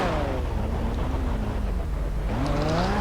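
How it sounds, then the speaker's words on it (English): Car engines in the video game GTA V FiveM, loud and droning with pitch sweeps as they rev and shift, close and continuous throughout. "these cars are so loud"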